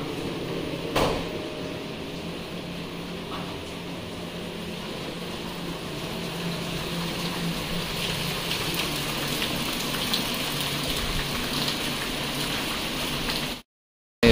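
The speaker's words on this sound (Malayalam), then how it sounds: "നല്ലൊരു മഴ, എപ്പം നോക്കിയാലും മഴ തന്നെയാണ്." Monsoon rain pours steadily at a hill resort in Kakkadampoyil, Kozhikode, as an even, fairly soft hiss with no talking that runs on unbroken until it cuts off abruptly near the end.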